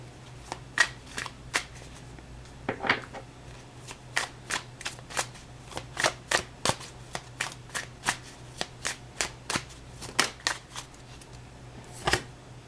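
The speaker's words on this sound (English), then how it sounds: "Bear with me, guys, as I shuffle." Tarot cards being shuffled close up, a long run of crisp riffling snaps and flutters at an uneven rhythm, with no voices.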